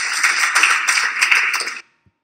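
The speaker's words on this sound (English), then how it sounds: "A hand clap for me." A crowd of lecture attendees claps together for about two seconds, a dense burst of overlapping claps that stops abruptly and leaves near silence.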